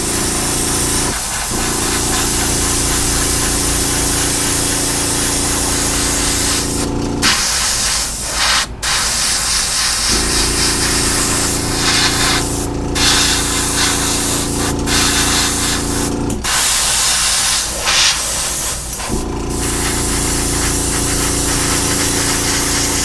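An airbrush sprays white paint onto a Gundam model kit in loud hissing bursts, with a compressor droning underneath and several short pauses between passes.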